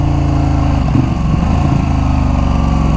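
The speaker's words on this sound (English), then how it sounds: "this bike sounds good" A Ducati motorcycle with a wet clutch runs close by in a loud, steady, throbbing drone that continues throughout, with a slight shift in its rumble midway.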